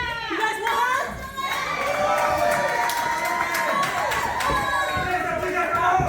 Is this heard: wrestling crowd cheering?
yes